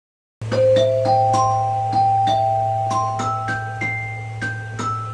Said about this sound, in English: Up high, you can see the chrysoglot. We'll play that in a minute.